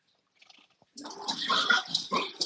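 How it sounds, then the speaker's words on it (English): Dogs growl indoors, low rumbling snarls that start after a near-silent second and continue close and fairly loud, with no talk over them. "Dogs are in here growling."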